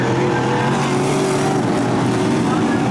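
Classic race cars roaring past on a track during a race, a dense, loud blur of engine noise that swells and fades as the cars pass, with an announcer's voice faintly underneath.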